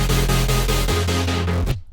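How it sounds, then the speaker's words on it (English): Layered synth chords processed with distortion, bit crusher and EQ play in a steady pulsing rhythm with a heavy low end, loud and upfront, cutting off abruptly near the end. "just some distortion, some bit crusher, and some EQ. And that just layers really nicely with the rest of the sounds to add something more unique to the chords"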